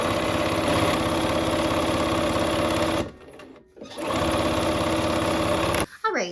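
Sewing machine stitching quilt pieces together for a snow-themed quilt, a loud, steady rapid needle chatter that runs for about three seconds, stops briefly, then resumes before ending with handling clicks.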